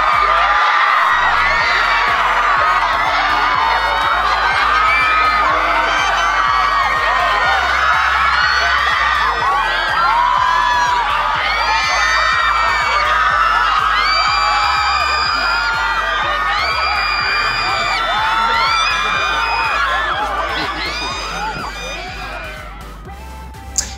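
Dense crowd of fans shrieking and cheering nonstop at a Lisa appearance, loud and close, a wall of high-pitched screams that fades slightly at the end.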